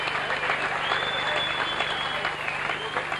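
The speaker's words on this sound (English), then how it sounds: "How about another round of applause for those two gallant warriors, Daniel and Jenk." An audience at a kickboxing title bout applauds the two fighters after eight rounds, a steady wash of clapping from the crowd that holds at even strength throughout, with a faint steady tone running underneath.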